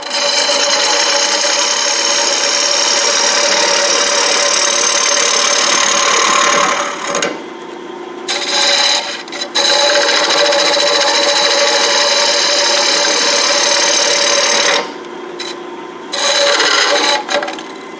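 A wooden bowl is sanded in a live demonstration, giving a loud, steady abrasive rasping that cuts out briefly a few times before resuming, with no talking.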